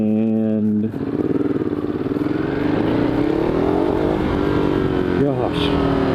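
A Ducati Hyperstrada motorcycle is ridden through San Francisco, its engine droning loud and close with rising and falling revs and rumbling, steady wind and road noise throughout, and a voice talking over it.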